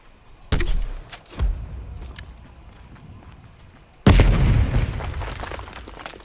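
Spawn tube launched by jump-shooting in Black Ops Cold War on the Cartel map: a sharp blast, a second burst shortly after, then a heavy boom later that trails off into a long rumbling tail.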